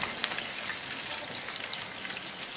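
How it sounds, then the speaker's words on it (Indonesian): Fritters deep-fry in plenty of oil, giving a steady, fairly quiet bubbling sizzle with small crackles throughout and no talking. "Kita akan goreng lagi sampai nanti semuanya habis."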